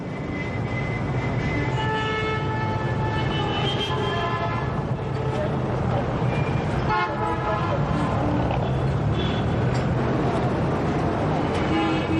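Busy street noise in Kolkata, India, with a steady roar of engines and repeated horns honking, dense and continuous, with indistinct voices mixed in.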